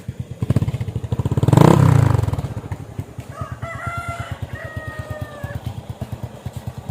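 A motorcycle engine idles with a steady rapid putter throughout, while a rooster crows loudly nearby early on and another crow follows more faintly in the background.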